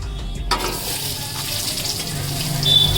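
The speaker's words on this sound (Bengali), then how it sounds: "আমরা এবার দিয়ে দিচ্ছি উপর থেকে কেটে রাখা আলু" Sliced potatoes dropping into hot oil that already holds fried cumin and dried chilli, a sudden loud hiss and sizzle that bursts in and keeps crackling steadily, close by.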